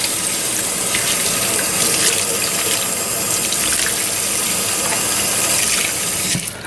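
Tap water runs steadily through the inside of a trumpet during a deep clean, a continuous close splashing rush with no pauses.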